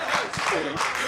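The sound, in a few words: crowd applauding England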